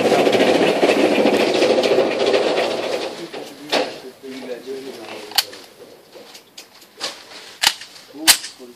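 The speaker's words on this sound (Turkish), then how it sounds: "5 tane atalım. 5 mermi var. 10 metreyi görüyoruz." Canik TP9 pistol fired at a range target ten metres away, several sharp cracks spaced a second or so apart after a stretch of louder background noise at the start.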